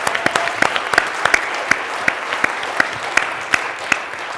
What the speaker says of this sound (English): let's clap a little extra harder